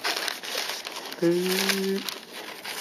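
Thin paper pages of a calendar packaged as a Chanel Beauty customer gift being turned and crinkled close by, a soft rustle running through, while someone talks over it.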